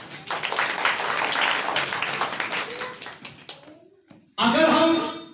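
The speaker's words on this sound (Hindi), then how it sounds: "शाबाश, बहन के लिए जोरदार ताली।" Hearty applause and clapping from a church congregation for a sister who answered, a dense wash of claps that fades out, then a short loud burst of voices and clapping near the end.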